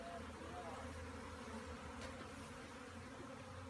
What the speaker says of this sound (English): Hey, I'm having a bee swarm over here, just so you know.